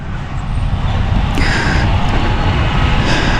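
A Triumph Scrambler 400 X single-cylinder motorcycle with a dual barrel exhaust rumbles steadily nearby in a deep, loud, even idle, with no talking.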